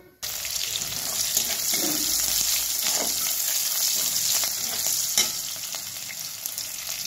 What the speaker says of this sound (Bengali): এবার ওই কড়াইতেই এগুলো ফোড়ন দিয়ে দেবো।